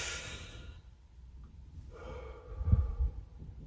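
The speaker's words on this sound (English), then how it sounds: "in through the nose, out through the mouth" A person takes a deep breath in through the nose, then lets it out slowly through the mouth in a loud, close exhale near the end.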